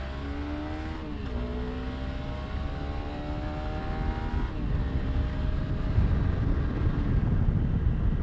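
A lightweight adventure motorcycle, either a BMW G 310 GS or a Honda CRF300L Rally, accelerates hard from 0 to 60 mph. The engine rises in pitch through the gears with a shift near one second and another around four and a half seconds, and the whine gives way to growing wind rush.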